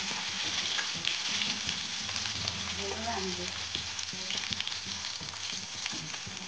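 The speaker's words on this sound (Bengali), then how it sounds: "আমরা তেলের মধ্যে মরিচ আর পেঁয়াজটা দিয়ে দিয়েছি। এটা আমার বান্ধবী ভালো করে ভাজছে এটাকে।" Chopped chili and onion frying in hot oil as the base for Maggi noodles, a continuous close sizzle with occasional scraping from stirring, no talking.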